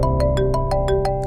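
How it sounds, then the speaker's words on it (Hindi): A mobile phone ringtone plays a steady repeating electronic melody with regular pulsed notes, loud and close throughout. "फोन उठाओ"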